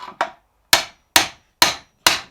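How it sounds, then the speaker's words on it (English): An iron hoop on a wooden Anglo-Saxon burial bucket is hammered down on an anvil, giving five sharp, ringing metallic blows at a steady pace, close and loud, with no talk. "If you hammer it down on the anvil,"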